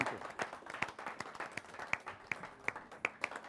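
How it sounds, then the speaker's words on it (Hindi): An audience at a poetry gathering claps to welcome the poet Vinit Chauhan, a sparse, fairly faint patter of individual claps with a few sharper hand slaps standing out. "जोरदार तालियों से स्वागत है"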